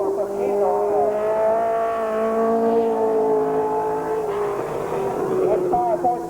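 A race car at Columbus Motor Speedway in Ohio in 1987, engine note sustained and gradually shifting in pitch as the car runs the track, loud and steady with a public-address announcer talking over it.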